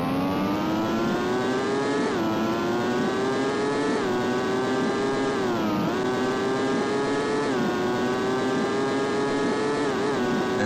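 Racing car engine in an Amiga racing game, a continuous buzzy synthesized drone whose pitch climbs and dips with gear changes, steady and loud throughout with no voices.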